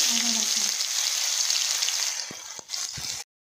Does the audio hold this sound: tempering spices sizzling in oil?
yes